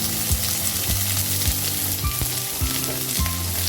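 Sliced onion frying with mustard seeds in hot coconut oil for beans thoran, a loud, dense, steady sizzle close up, with repeated low knocks of a spoon stirring in the pan.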